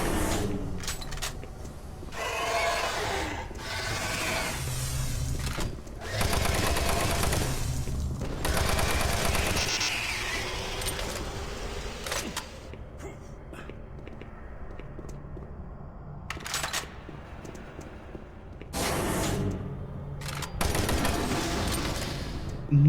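Shotgun and gunfire in the video game Doom 3, loud bursts of shots and combat noise at irregular intervals separated by quieter stretches of ambience.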